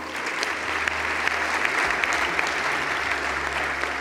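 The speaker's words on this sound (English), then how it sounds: "Ladies and gentlemen, a big round of applause for our panel." An audience applauds a panel with a steady, dense wash of clapping from many hands, even in loudness throughout and without voices over it.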